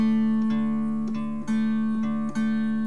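Mountain dulcimer with a simple bass line picked on the bass and middle strings, a sustained drone under repeated plucked notes roughly every half second, close and clear with no voices.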